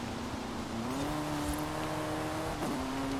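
Car engine in the Forza Horizon 5 racing game holds a steady, sustained drone, rising in pitch around the one-second mark and dipping briefly near the end as it revs back up, with no talking.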